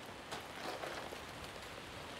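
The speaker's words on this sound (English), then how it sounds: "Wow, it's raining a lot now." Heavy rain falling steadily, a soft, even hiss of drops on surfaces heard from a distance, quiet and continuous with no one talking.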